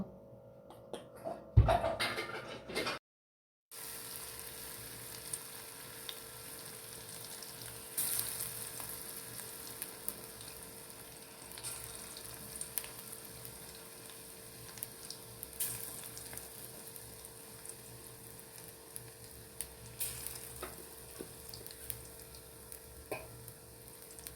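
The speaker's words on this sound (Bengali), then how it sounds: "ভাজা বসিয়ে দিয়েছি এখানে পেঁয়াজগুলো" Onions frying in a pan make a soft, continuous sizzle with light crackles throughout, after a brief bump and a moment of silence at the start.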